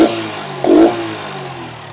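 A Yamaha Crux motorbike, just fixed of a rusted carburetor, idles close by with a short burst of revving partway through before settling back to a steady idle.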